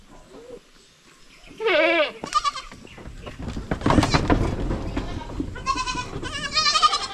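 Young goats bleat in wavering, nasal cries, several calls overlapping near and loud, with rustling and farmyard movement between them.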